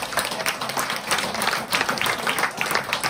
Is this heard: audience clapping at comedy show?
yes